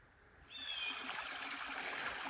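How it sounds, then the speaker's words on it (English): Small creek flowing out of a lake on a fall forest trail, a steady close trickling and gurgling of water that swells after a quiet start. "Very pretty little creek flowing"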